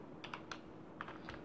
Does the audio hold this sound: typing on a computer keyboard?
yes